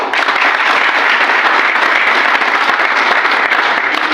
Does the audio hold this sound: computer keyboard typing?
no